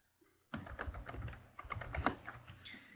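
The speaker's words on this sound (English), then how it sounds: "we'll hit the spacebar is our jumping function" A computer keyboard being typed on at close range, with a quick run of light clicky key presses that includes spacebar taps, starting after a brief near-silent moment.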